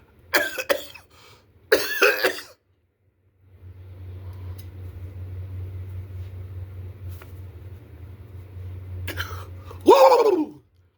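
A person coughs in a few sharp bursts, then a steady low hum runs for several seconds before a final loud cough-like burst with a voiced tail, close and alone without talk.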